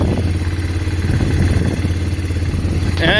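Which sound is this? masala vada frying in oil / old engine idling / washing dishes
old engine idling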